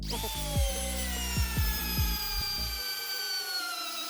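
Pro-Craft cordless drill driver running in drill mode with the clutch bypassed, giving a close, steady high motor whine with a few short bursts of load at the start before it winds down, with no voices.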